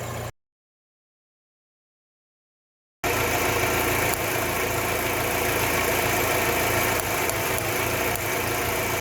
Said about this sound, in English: that popping sound that you keep hearing is this coil pack. It is misfiring, only slightly, only fractionally